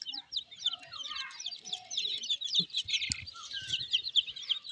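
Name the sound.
chickens clucking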